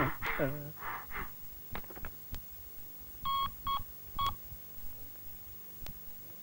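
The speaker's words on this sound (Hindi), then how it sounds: "रुको, मैं डॉक्टर को फोन करता हूँ।" Telephone number dialed to reach a doctor, a series of short DTMF key tones in quick clusters after some breathy gasps and rustling, fairly close and clear.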